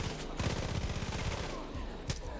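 Rapid automatic gunfire in the video game Far Cry 5 rattles in dense, continuous bursts of close, loud shots throughout.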